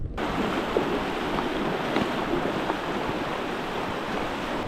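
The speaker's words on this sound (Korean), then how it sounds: "이렇게 물도 흐르고 바람도 불고" Steady rushing water and gusting wind fill the air at a high mountain lake in Kyrgyzstan, around 3,500 m up. The broad roar is loud and constant throughout, with no voices.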